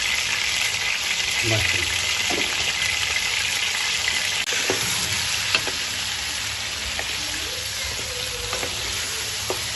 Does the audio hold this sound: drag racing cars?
no